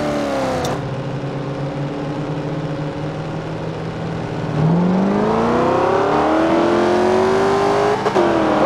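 A 302 Foxbody car engine in the racing game Forza Horizon 2, a steady loud drone that drops briefly, then launches into a rising, revving acceleration through the gears, with a short shift blip near the end.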